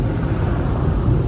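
A car wash air dryer blasts water off a car at a fast American car wash, making a loud, steady, broadband roar like rushing wind that holds without a break.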